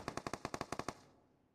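Rapid gunfire from the battle royale game PUBG, about eleven sharp shots in quick succession, loud and close, then a short fading tail with no talk.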